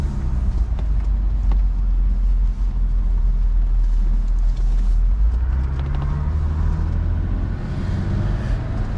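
A 1985 Mercedes 280SL drives along, its engine a steady low rumble with road and wind noise inside the cabin, continuous and fairly loud throughout with only slight shifts in tone.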